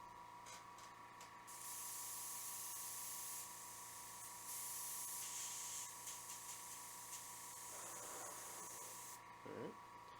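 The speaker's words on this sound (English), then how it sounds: "we're going to airbrush the color on really quick" Airbrush spraying black and brown paint onto a miniature model, a steady close hiss in two long bursts with brief pauses, over a faint background hum.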